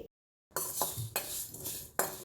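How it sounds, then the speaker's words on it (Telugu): Cumin and fenugreek seeds being dry-fried on low heat in a pot on a stove, stirred with a spoon, producing a few light metallic clinks and scrapes over a soft steady sizzle after a short silence. "ఇప్పుడు స్టవ్ పైన గిన్నె పెట్టుకుని రెండు స్పూన్ల వరకు జీలకర్ర రెండు స్పూన్ల వరకు మెంతులు వేసి దోరగా సిమ్లోనే ఫ్రై చేసుకోండి"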